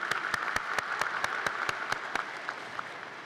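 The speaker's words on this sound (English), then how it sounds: "Please give them a round of applause" A crowd applauds steadily, the clapping dense and continuous, with a few sharp louder claps standing out near the start.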